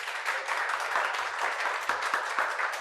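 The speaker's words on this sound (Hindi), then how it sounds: "तो हम ऐसा जोर से ताली बजाते हैं" Students in a classroom clap loudly and steadily, a dense, continuous patter of many hands that carries on throughout without a break.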